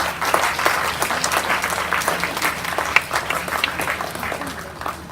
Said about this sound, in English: I'd like to give them a huge round of applause, please